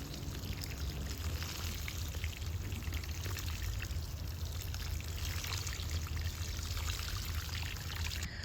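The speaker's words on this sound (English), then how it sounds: "So let's give this a water" Water pours steadily onto plants in a shade garden, a close, even splashing rush with no pauses and no talking.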